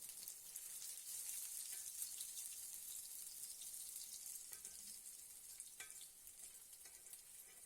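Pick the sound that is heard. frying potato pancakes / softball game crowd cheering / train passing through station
frying potato pancakes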